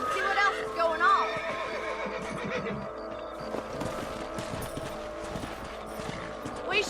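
A horse whinnies loudly in Red Dead Redemption, followed by clopping hooves and mechanical creaks while game characters talk over the scene.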